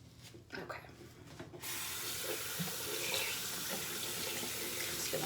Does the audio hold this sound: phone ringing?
no